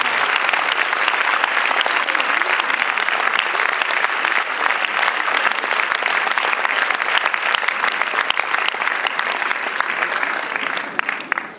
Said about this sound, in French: Alors, vous les applaudir très fort